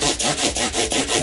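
Hand-sanding the wood body of a partscaster Telecaster guitar, a close, loud rasping scrub repeated in steady back-and-forth strokes about every quarter second.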